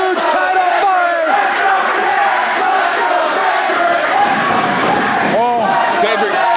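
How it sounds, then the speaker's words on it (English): A wrestling crowd at a CWF Mid-Atlantic title match cheers and yells loudly and continuously, a dense roar of voices that swells with sharp shouts throughout. "This crowd is coming alive! They know they are in a huge title fight!"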